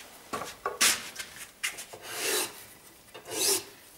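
A cabinet scraper is pushed across wood in short, rasping strokes, close and fairly quiet, with a few longer scrapes toward the end.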